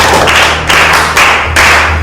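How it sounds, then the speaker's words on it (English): A few people in a room clap together in a short burst of taps and thumps, an uneven patter of palms that comes in waves, with no talking over it. "clap for her mother"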